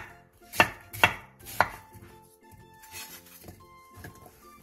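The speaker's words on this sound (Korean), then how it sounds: "양파 1개 반, 사과 2분의 1개, 배 4분의 1개를 갈기 좋은 크기로 큼직하게 잘라주세요." Onion, apple and pear being cut into large chunks on a cutting board for kimchi seasoning paste: three sharp, evenly spaced knife chops up front, followed by softer handling and light clatter, close and with no talk.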